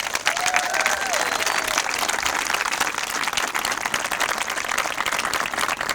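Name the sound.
audience applause at graduation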